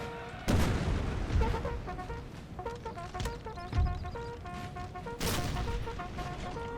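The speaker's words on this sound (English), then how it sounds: "And then these units will get cannon support as we shoot down the enemy." Cannon artillery fire in a Napoleonic-era battle in the strategy game Napoleon: Total War, sharp booming blasts at irregular intervals over a continuous rumble of distant gunfire and battle noise.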